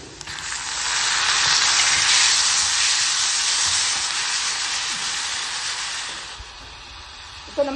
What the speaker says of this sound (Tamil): இப்போ தக்காளி நல்லா வதக்கட்டும்.